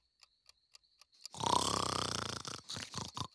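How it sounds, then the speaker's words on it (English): A person snoring: a faint ticking clock first, then one long, loud, rasping snore close by, followed by a few shorter snorting gasps. "stop snoring!"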